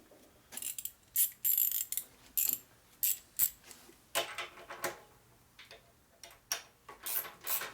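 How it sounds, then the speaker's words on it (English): A ratchet wrench clicks while turning bolts on a custom rigid bobber chopper motorcycle, in quiet, close bursts of rapid ticking separated by short pauses. "where's my ratchet at?"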